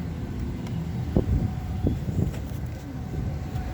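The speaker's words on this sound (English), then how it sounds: "I'm just waiting for the cars to go by so I can actually get in the store." Cars drive past on a road outside a store, making a continuous broad roadway wash with a few soft bumps and thuds and no talking.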